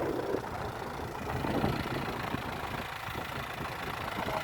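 An engine-driven farm water pump, fitted with a four-cylinder engine, runs continuously with a steady, rough mechanical drone and churning rumble, close and unchanging throughout.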